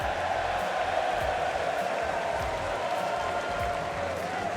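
Esports crowd at a Rocket League RLCS Spring Split Major applauding and cheering in a big arena: a steady, dense wash of clapping and crowd roar that holds for several seconds without a break.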